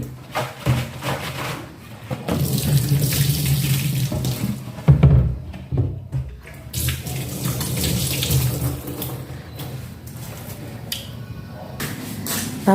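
Tap water runs steadily into a kitchen sink during dishwashing, with a close, continuous splashing rush that varies as items pass under the stream and a few faint knocks in between.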